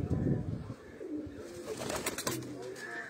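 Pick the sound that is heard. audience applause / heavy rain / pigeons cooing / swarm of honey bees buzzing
pigeons cooing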